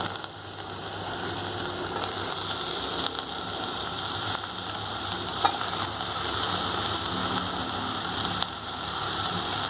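Mashed potato is stirred into a hot pan with turmeric for aloo paratha filling, giving a steady low sizzle and scraping that runs continuously under faint clicks, with no talk.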